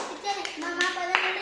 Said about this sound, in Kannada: ಚಪ್ಪಾಳೆ ಹೊಡ್ರಿ ಅವ್ರ ಅಪ್ಪರಿಗೊಂದು